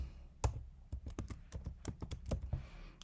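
Keys clatter on a computer keyboard as a password is typed at an Ubuntu Linux terminal, a quick irregular burst of close, crisp clicks with brief pauses between strokes.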